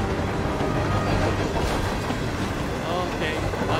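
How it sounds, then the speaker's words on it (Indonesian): A long train rolls along rails in the video game Hitman 3, a steady loud rumble and rattle of wheels with faint clatter throughout, no speech over it. "Panjang sekali keretanya guys."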